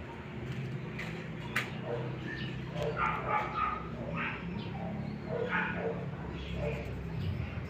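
A dog barks and yips a few times at moderate distance, with voices faintly in the background.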